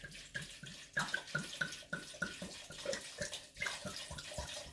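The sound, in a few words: whole bottle of burgundy wine poured into dish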